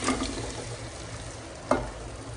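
Mutton bone marrow pieces sautéing with ginger garlic paste for Hyderabadi nalli soup, a steady close frying sizzle with a brief stirring clatter near the end, no talking.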